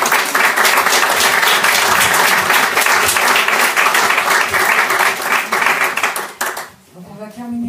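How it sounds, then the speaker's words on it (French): An audience applauds at the close of a talk about FabLabs, a dense, sustained burst of many hands clapping that fades out near the end as a voice begins speaking. "on peut l'applaudir."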